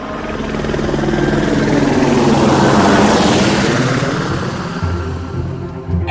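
A helicopter passes overhead, its loud rotor chop and engine roar building to a peak and then slowly receding, with no voices.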